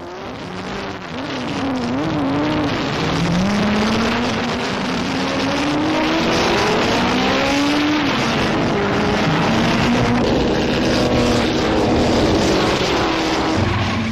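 Bentley racing cars compete in the Brooklands Double 12 handicap race, their engines roaring loud and close with repeated rising and falling pitch sweeps as the cars accelerate and pass, continuous for the whole stretch.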